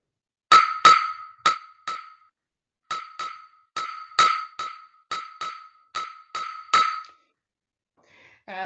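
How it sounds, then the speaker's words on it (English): A pair of wooden claves plays the clave rhythm, with sharp, bright clicks in a syncopated pattern of about fourteen strikes, close and dry against silence. "The clave sounds like this."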